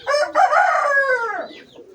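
A single close, loud, drawn-out call from a bantam chicken, a hen, rises and then trails off over about a second and a half. It stands alone in an otherwise quiet setting.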